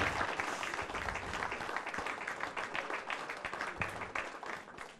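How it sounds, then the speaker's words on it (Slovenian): Audience applause fills a hall during a televised folk-music show in Prlekija, Slovenia: dense, steady clapping from many hands at moderate volume, with no break for the full five seconds. "Gospod Mirko Cvetko, en velik aplavz za njega."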